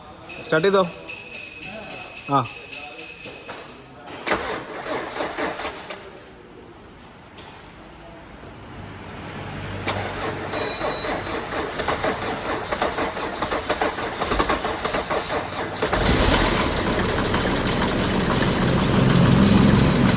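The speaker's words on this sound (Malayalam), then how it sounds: "ഫസ്റ്റ് സ്റ്റാർട്ടിൽ തന്നെ ഒന്ന് നീട്ടി ക്രാങ്ക് ചെയ്തപ്പോൾ ആൾ സ്റ്റാർട്ട് ചെയ്തു" A Mercedes-Benz W124 cranks from a cold start after sitting for three months, then catches and settles into a steady, loud idle that rumbles close by. People talk over the engine noise.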